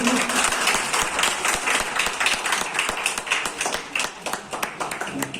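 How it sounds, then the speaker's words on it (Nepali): Sustained audience applause at a third anniversary celebration, dense overlapping hand claps from a large crowd filling the room at steady volume throughout, with faint voices mixed in. "म त्यसको लागि पनि जोरदार ताली बजाउन अनुरोध गर्छु"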